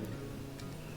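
The delete key on a computer keyboard is pressed, giving two faint, sharp key clicks about half a second apart over a low room hum, with no voice.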